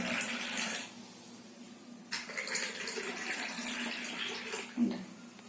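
Hibiscus tea poured from a height into a cup, a trickling liquid stream that stops and restarts, with soft splashes and a small clink near the end.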